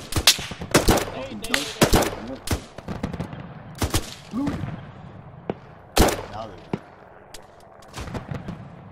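Rapid gunfire during a close-range firefight, sharp loud cracks in uneven bursts and single shots with some echoing booms, mixed with shouted voices between the shots.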